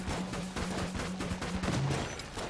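Pistol gunfire in the video game Enter the Gungeon, a dense run of rapid shots and impacts layered over game music, loud and continuous throughout.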